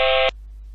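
A computer-generated function-signal tone with added noise, a steady buzzy stack of harmonics that sounds for about a quarter second and then cuts off abruptly, leaving faint low hum.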